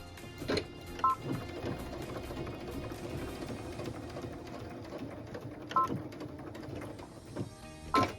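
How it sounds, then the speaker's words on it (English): A home sewing machine stitches in the ditch along the seams of a quilted wall hanging, attaching ribbon to the blocks. It hums steadily at a moderate level, with a few brief higher clicks and thumps breaking in. "I'm going to stitch right there in the ditch."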